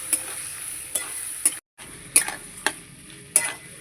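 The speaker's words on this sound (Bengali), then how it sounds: "এবার আমি ভালো করে কষাবো আগে একটু মিশিয়ে নেব মশলাটা" Spices stirred and fried in a pan for a Bengali kohlrabi and small prawn curry, a soft steady sizzle broken by several sharp spatula scrapes and taps against the pan, with one brief dropout.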